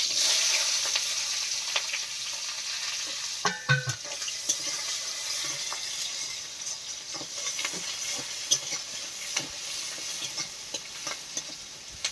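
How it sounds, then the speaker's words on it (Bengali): Onion and whole garlic cloves frying in a wok give a steady, close hiss of oil, broken by scraping stir strokes and a few sharp clinks of a utensil against the pan. "কড়াই এখন পেঁয়াজ আর যে গোটা রসুন দিয়ে দিচ্ছি"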